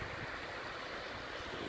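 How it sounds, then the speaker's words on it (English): Steady rushing water from Craig's Creek in Laurel County, Kentucky, flowing well after heavy rains, a continuous broadband wash, fairly quiet and unbroken. "Craig's Creek's flowing pretty well right now after all these rains."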